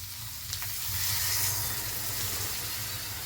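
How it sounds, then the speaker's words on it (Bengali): A little water hits cooked, well-fried chicken filling in a hot pan and sets off a loud, sustained hiss of sizzling and steam that swells and then holds steady, close by. "হ্যাঁ, এবার জল দিয়ে দেবো আমি, অল্প পরিমাণ জল দিয়ে দেবো"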